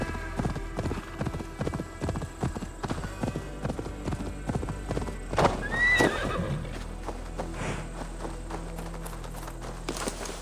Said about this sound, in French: Un cheval là.